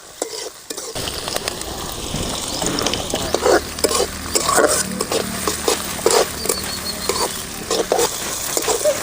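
Onion sizzles and fries on a flat dosa griddle while being stirred, a steady close crackle with scraping strokes throughout and no voices.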